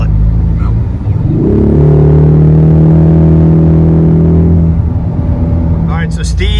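A 2024 Ford Mustang EcoBoost (S650) accelerating hard, its engine note climbing loud and close in a strong rising drone that holds and then drops off, with a brief voice near the end.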